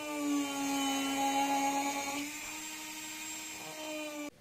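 Power carving tool cutting border lines into a wooden beer mug, a steady high-pitched whine with strong tonal harmonics that dips slightly in pitch partway through, close and continuous before cutting off abruptly at the end.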